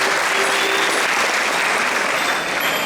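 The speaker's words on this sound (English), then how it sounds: "you should give a huge round of applause to the musicians as well for the wonderful orchestration that they provided" A concert audience at a school diamond jubilee event in Mumbai applauds the musicians, dense steady clapping filling the hall for about three seconds without letup.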